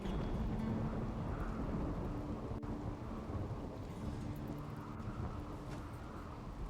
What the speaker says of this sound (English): We have a rainy thunderstorm.